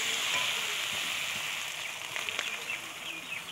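Masala paste frying and being stirred in a pan for a home-style chicken and potato curry gives a steady, close sizzle with a few light scrapes.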